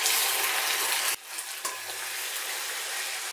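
Ginger garlic paste hits hot oil for a Bangladeshi chicken and potato curry, giving a loud, close sizzle that drops sharply after a second, then a steady, softer frying hiss as it is stirred.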